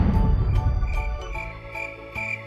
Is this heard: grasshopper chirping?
yes